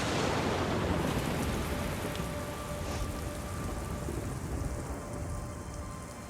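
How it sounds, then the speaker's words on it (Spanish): Heavy rain pours steadily in a canyon during a violent thunderstorm, a dense, loud wash of drops hitting sand and rock, with a dull rumble of thunder underneath throughout. "una tormenta violenta se desata en el cañón"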